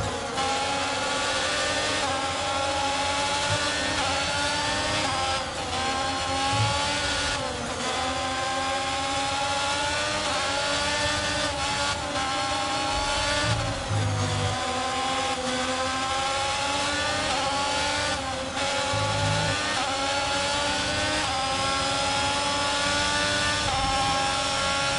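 A Formula 1 car engine with a worn internal combustion unit in F1 22 at the Japanese circuit screams steadily at high revs, with repeated gear shifts and rising pitch sweeps, loud and continuous.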